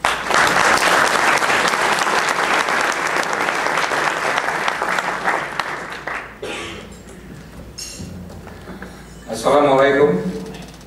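An audience claps steadily and loudly for the Indonesian ambassador as he is welcomed to the podium at a talk in Washington, D.C., the applause fading after about six seconds before a brief voice and a short renewed burst of clapping.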